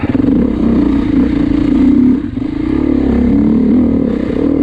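A 2024 Beta 390 RR dirt bike engine runs with a loud, steady droning roar that briefly dips in the middle before carrying on, close to the listener.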